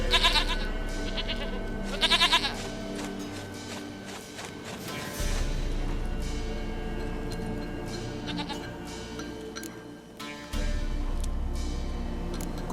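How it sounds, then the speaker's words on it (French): A goat bleats in The Witcher 3: Wild Hunt, a few short wavering calls over a steady game ambience and low music bed, with a couple of brief gaps where the background drops. "Une chèvre à moi, gentille, douce Biquette."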